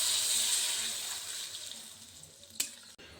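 Water is poured into a pan of fried carrots and beans while cooking rava kichdi, giving a steady hissing splash that fades gradually, with a brief clink near the end.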